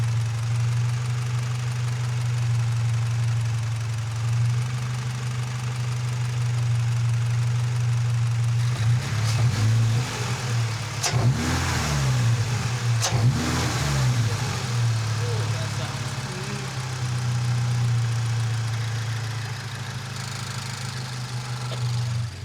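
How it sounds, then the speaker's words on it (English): Toyota GR86 with a Perrin cold air intake, recorded close at the intake: a steady low idle hum broken by a few sharp revs rising and falling in the middle. "I'm gonna put it right here so that you guys can hear some intake noises."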